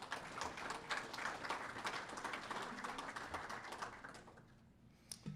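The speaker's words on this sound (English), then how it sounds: "I'd like to give him a round of applause, please" An audience applauds at a Bethel athletics Hall of Fame induction ceremony for an inductee, dense steady clapping from many hands filling the room and tapering off near the end.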